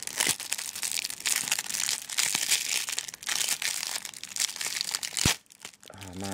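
Yu-Gi-Oh trading card booster pack wrappers are torn open with loud, continuous foil crinkling and ripping up close, ending with a short pause and a few softer rustles.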